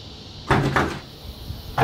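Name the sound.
Tesla frunk flying open on upgraded struts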